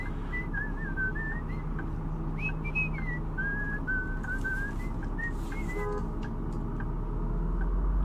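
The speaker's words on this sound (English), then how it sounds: "That's some good whistling right there." Someone whistles a wandering, tuneful melody in Bus Simulator 16, clear and fairly close above a constant low bus engine hum, with no talking.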